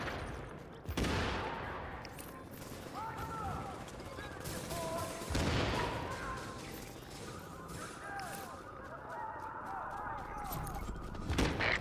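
Hostile gunfire in The Division during a Last Stand match as enemies attack a fortification, distant rattling bursts of rifle fire and impacts under a continuous battle din, with a radio voice announcing events over it.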